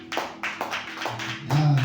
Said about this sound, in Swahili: Pigie makofi mazuri.